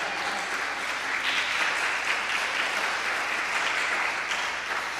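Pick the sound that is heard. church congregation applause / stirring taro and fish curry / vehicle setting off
church congregation applause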